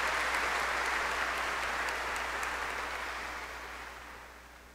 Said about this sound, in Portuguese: um aplauso, sim, sim